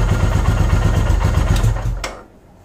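A Royal Enfield Himalayan motorcycle engine, filled with Putoline Nanotech oil, idles with a loud, steady thumping rumble close by, then is switched off and falls quiet within about two seconds.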